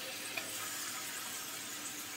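Spice paste of chili powder, coriander powder and ginger-garlic paste sizzles steadily in hot oil while being fried for a tengra fish curry with mesta, a constant close hiss with no talk.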